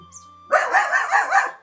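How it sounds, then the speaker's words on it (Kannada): A dog barks close by in a quick run of four or five sharp barks after a brief quiet lead-in. "ನಾಯಿ ಬೇರೆ"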